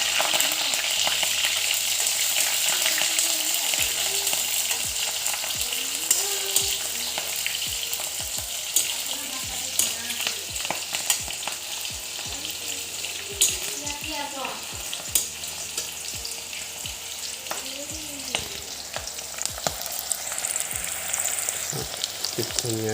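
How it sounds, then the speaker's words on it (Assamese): Chopped onions sizzle in hot oil for bhindi masala, a steady crackling fry broken by frequent clinks and scrapes of a spatula stirring the pan, close and fairly quiet, with no talking. "এইটো জ্বলি থাকোঁতে এইখিনি পিঁয়াজটো দি দিম"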